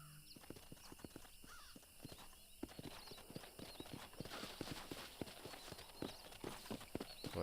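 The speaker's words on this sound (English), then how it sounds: "Hey, come back here, horse." Steady clip-clop of horse hooves from the video game Red Dead Redemption, a continuous quick rhythmic trot of sharp hoof strikes, moderately close, with no talk over it.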